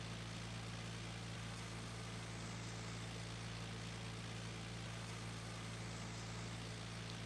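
A tractor engine runs in the farming video game Farming Simulator 19, giving a steady, low, droning hum that stays even and fairly quiet throughout with no talking.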